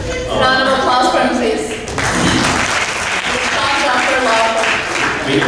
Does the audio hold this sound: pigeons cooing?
no